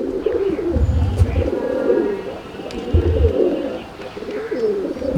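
Kaldoma pigeons cooing inside a pigeon loft, with several close, low throaty coos repeating in overlapping phrases and a few soft rustles between them.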